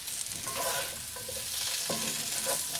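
Cinnamon French toast fries on a Lodge cast iron griddle, giving a continuous soft hiss and sizzle with small pops and a brief scrape, steady and fairly quiet with no voices.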